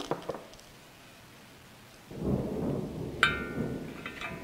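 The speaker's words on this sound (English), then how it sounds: "Boy, is that thunder an omen?" Thunder rolls in as a low, swelling rumble about halfway through, with a sharper crack partway in, over faint background noise during work on an abandoned 1956 Chevy Tri Five; no one speaks.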